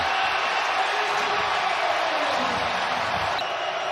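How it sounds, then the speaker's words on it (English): A stadium crowd roars after an NFL touchdown, a steady loud wash of cheering and noise held at even volume throughout, with no distinct voices standing out. "Crowd roaring again."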